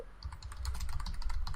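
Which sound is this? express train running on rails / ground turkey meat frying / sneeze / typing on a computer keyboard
typing on a computer keyboard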